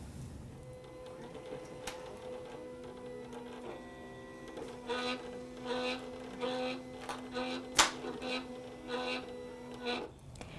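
A Silhouette cutting machine drives its blade through glossy stencil vinyl, giving a steady motor whine with repeated short whirring carriage bursts and occasional clicks, moderately quiet and heard without talk.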